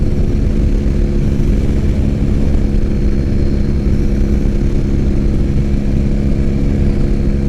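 A 2006 Triumph Bonneville fitted with cafe bars cruising down the road, its engine a steady, loud low rumble with constant drone and wind throughout, no speech.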